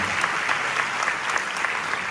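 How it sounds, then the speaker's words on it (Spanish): Lively applause from an audience, many hands clapping continuously and fairly loudly, a steady dense patter with no pauses. "Un aplauso y muchas gracias por venir."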